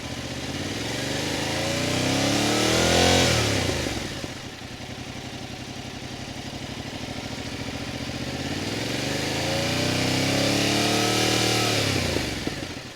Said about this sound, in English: an open throttle is when that throttle is increasing, those RPMs are constantly going up like this